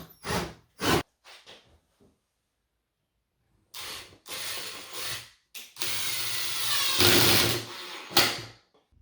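Wood screws are driven with a power driver into a window frame during a skoolie window delete, heard as several short whirring bursts separated by pauses, close and fairly loud.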